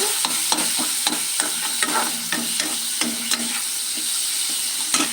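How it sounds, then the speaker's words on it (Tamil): Tomatoes being smashed in a hot frying pan for drumstick sambar: steady sizzling with repeated scraping and pressing taps from a utensil at an irregular rhythm, close and without talking. "நல்லா ஸ்மாஷ் பண்ணிகிட்டே இருந்தேன்"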